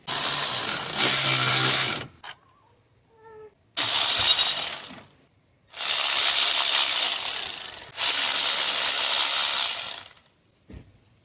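A flex head ratchet wrench works on 10mm bolts during a 2007–2016 Toyota Sienna 3.5 water pump job, with loud, harsh bursts of clicking separated by short silences.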